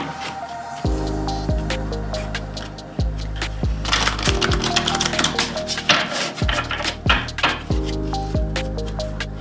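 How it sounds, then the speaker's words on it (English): Oracle cards shuffled by hand, a steady run of crisp papery clicks and riffles close to the microphone, playing over continuous soft background music. "I'm going to start with shuffling the cards here."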